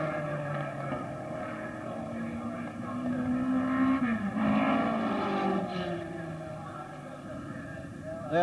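A Brabham Climax race car at the 1963 Australian Grand Prix accelerates down the pit straight toward Paddock Bend, its engine note rising and swelling in pitch, heard at a distance over steady crowd and track ambience.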